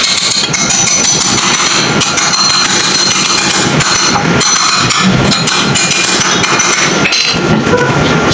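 Repeated hammer blows with a metal hammer on scaffolding work, loud, dense and continuous with clinking metallic impacts throughout.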